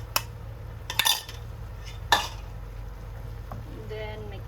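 Shrimp and mixed vegetables with sauce being stirred in a pan, with a few clinks of a utensil against the pan, a quiet stretch, and a soft sizzle near the end.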